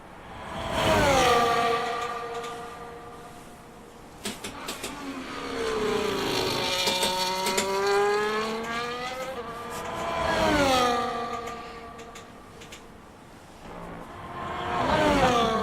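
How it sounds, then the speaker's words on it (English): A race car on an out lap down the pit lane and around the Jeddah circuit, its engine rising and falling through repeated revving sweeps and gear changes, moderately distant and steady, with no voices. "As we watch Kayla come down that pit lane and on another outlap with 2 minutes 30 left to go"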